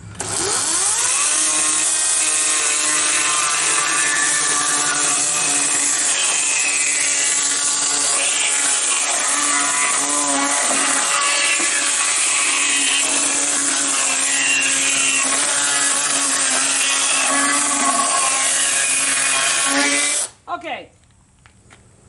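A chainsaw saws steadily through an old, badly damaged wooden pallet, running loud and close at a constant high-pitched whine for about twenty seconds before cutting off abruptly near the end.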